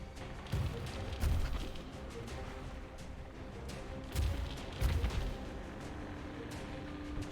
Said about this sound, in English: That airstrike is closing in your position.